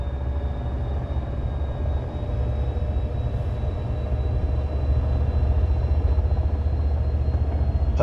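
Helicopter in the Train Sim World 4 game, set on the Los Angeles Metrolink, making a steady, continuous low rumbling drone that holds level throughout with no voices over it.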